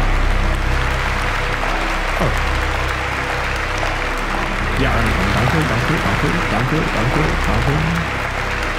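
Steady applause fills the scene for several seconds while someone speaks a few brief words over it.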